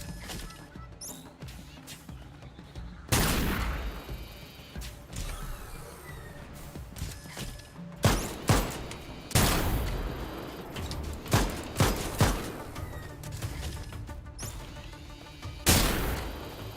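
Turret gunfire in the video game Lost Skies, set on a sky ship: several sharp, loud blasts spread across the stretch, each standing out against a busy bed of creaking and mechanical game noise.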